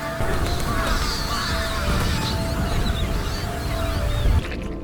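Crows cawing over a dense, rumbling background of noise in a TV drama scene of a destroyed area, the calls scattered and somewhat distant across a few seconds.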